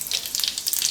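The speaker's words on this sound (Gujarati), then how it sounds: "તેલ આપણું ગરમ થઈ ગયું છે. તો એમાં થોડુંક જીરું નાખશું" Cumin seeds crackle and sizzle in hot oil while spinach and carrot curry is prepared, a steady, fairly loud hiss with small popping bursts throughout the brief moment.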